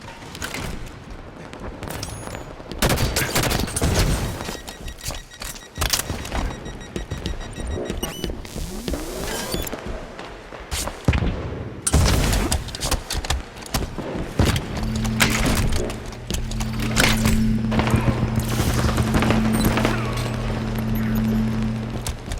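Chaotic Halo 5 Warzone combat: rocket explosions and bursts of gunfire, heavy booms and rapid cracks over a dense battle din, with a steady hum joining in later and no talk.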